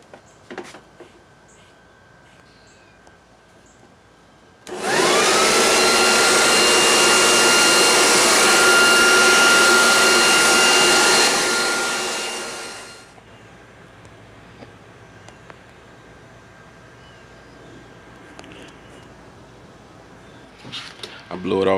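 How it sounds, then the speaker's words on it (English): A handheld blower roars to life and blasts air across an Oldsmobile Cutlass engine during a clean-up, a loud, steady whoosh lasting about eight seconds before winding down, with quiet shop sounds before and after. "Gonna blow off the engine now."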